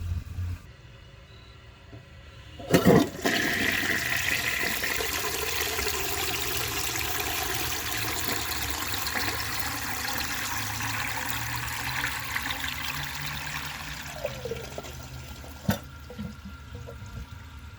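A 1948 Kohler Brooklands toilet flushes with a sudden loud rush of water, then a long steady gurgle and tank-refill hiss that runs on for many seconds, heard close up.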